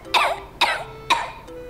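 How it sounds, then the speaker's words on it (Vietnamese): An older man coughs three times in a short series, each a sharp, fairly close burst followed by a rough tail, with a faint throat sound after; no one speaks. "Ba bị bệnh hay sao ba ho dữ vậy?"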